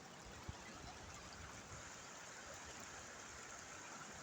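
Quartzville Creek flows pretty strongly, a steady broadband rush of moving water close by, constant and unbroken with no voices.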